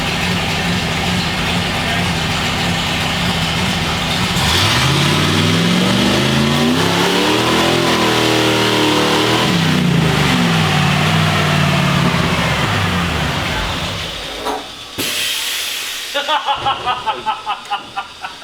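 A Ford F-150 pickup running nitrous revs hard, its engine note sweeping up and down in long loud pulls before dropping off, followed by a few sharp rhythmic bursts near the end.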